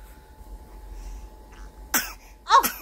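Two sharp, breathy sneezes burst out close together near the end, following a stretch of near silence with faint low room hum.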